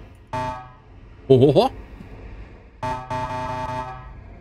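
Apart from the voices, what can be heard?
truck horn honking in the video game Star Trucker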